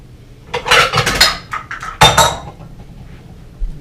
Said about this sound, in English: I'll get my serving bowl.